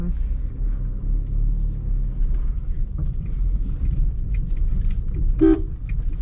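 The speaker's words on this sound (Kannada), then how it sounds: "so horn is good" A 2020 Maruti Swift VXi petrol car gives a short, bright honk from its horn near the end, over a low cabin rumble from the moving car while someone talks inside.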